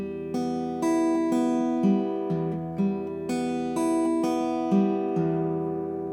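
Fingerstyle acoustic guitar picks a repeating pattern across the strings, one finger per string, clear sustained notes ringing over each other in an even, looping rhythm with no talking.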